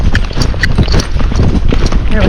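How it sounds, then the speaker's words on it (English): A Tennessee Walking Horse, a mare, canters in a quick rolling three-beat rhythm of hoofbeats, loud and close, while a person talks over the footfalls. "let's see if we can get her to go. Canter."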